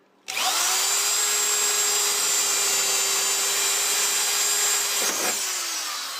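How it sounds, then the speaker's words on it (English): A power drill whines steadily at close range for several seconds, drilling pop rivet holes in a Jeep Cherokee XJ rocker panel, briefly bogging down near the end before resuming. "You just put your drill right on their little dot that I already measured."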